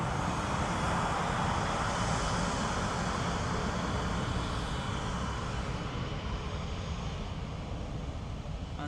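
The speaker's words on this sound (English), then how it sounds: "Aer Lingus in from Chicago." Aer Lingus Airbus A330 airliner arriving from Chicago at Dublin Airport, a loud, steady broadband jet roar that holds throughout, easing only slightly near the end, with no talk.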